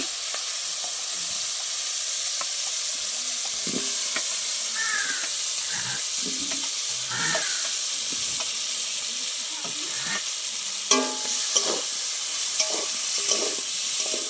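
Fried banana pieces stirred with spice paste in a hot pan, a steady sizzle broken by occasional scraping stir strokes, close and fairly loud with no one speaking.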